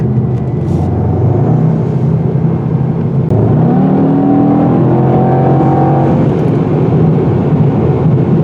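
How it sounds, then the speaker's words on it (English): A 2021 Mercedes-AMG E63 S sedan's turbocharged engine pulls steadily up steep grades, a constant close drone whose pitch rises smoothly through several gear-like sweeps, with no talking. "This engine is doing a fantastic job of climbing these steep grades."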